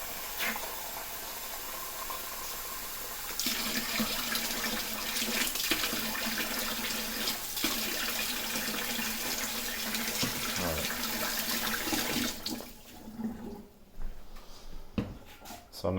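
Tap water pours steadily into a container, about two cups for a microwave heating test, a loud, continuous rushing stream for several seconds that then stops, followed by faint handling clatter.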